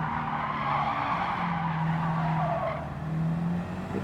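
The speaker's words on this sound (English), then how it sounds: "Four-wheel drift" Four-wheel drift in a racing video game, with tires skidding and squealing in a steady, sustained screech over the continuous drone of the car engine, loud and close throughout.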